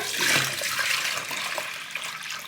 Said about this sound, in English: Yeah, so we pour the water.